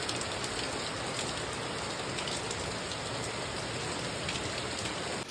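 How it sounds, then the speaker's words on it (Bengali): Heavy rain pours down steadily at a house during a downpour, a dense, constant hiss of drops on surfaces with no talk. "প্রচন্ড বৃষ্টি শুরু হয়ে গেল আবার।"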